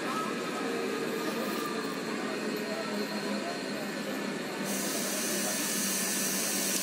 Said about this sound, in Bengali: এটা কি, কোথাকার ট্রেন বল? তুই জানি কি কোথাকার ট্রেন? হাওড়া বর্ধমান লোকাল।